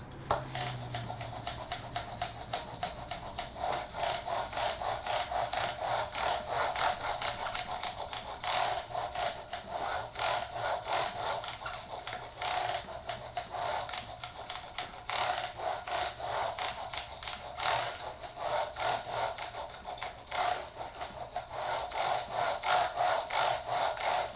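Hand sanding of a guitar body with small manicure sponges at fine grit, a steady dense scrubbing rasp that runs continuously and close up for the whole stretch, with no talk over it.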